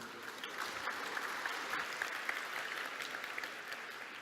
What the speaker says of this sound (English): A warm round of applause for Andrey Okonetchnikov.